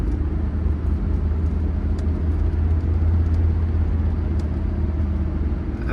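A 1979 Mercedes-Benz 300SD with only 6,700 miles cruising on the road, its steady low engine drone and road rumble holding constant and fairly loud throughout, with no voices.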